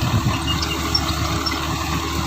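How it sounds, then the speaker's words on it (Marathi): Tractor engine running steadily in a potato field while a potato digging machine lifts the crop, a continuous low mid-range drone at close range with no talk over it. "आता ट्रॅक्टरच्या साह्याने बटाटा काढा हे चालू आहे"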